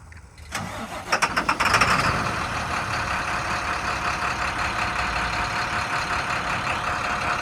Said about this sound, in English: Engine starts up perfect, sounds great.